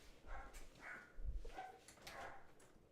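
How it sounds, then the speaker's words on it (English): Dogs bark in a few excited bursts indoors near a window, fairly faint and somewhat distant against a low room hum. "Dogs are going ballistic."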